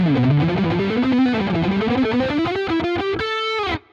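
A distorted electric guitar plays a rapid alternate-picked run of notes climbing in pitch across strings, ending with a brief ringing note and sudden stop.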